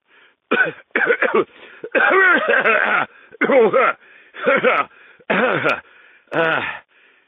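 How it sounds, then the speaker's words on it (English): A man coughs hard in a run of harsh, hacking bursts, about eight separate fits with short pauses between them, close and loud. "How long have you had that cough?"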